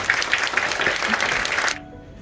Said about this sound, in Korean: 다시 한 번 더 축하의 박수를 함께 해주합니다